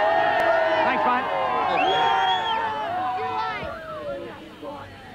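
Post-match crowd at a 1989 St George versus Bears rugby league game, a busy hubbub of many voices with scattered cheers and whoops around an interview, steady and fairly close.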